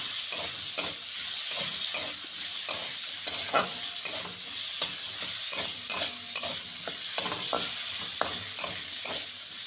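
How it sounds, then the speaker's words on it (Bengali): Potato pieces fry in hot oil with panch phoron and turmeric, a constant close sizzle broken by regular sharp scrapes and knocks of a spoon stirring the pan, with no talking. "তেল দিয়ে পাঁচফোড়ন দিয়ে হলুদ দিয়ে আলুটা ছেড়ে দিলাম"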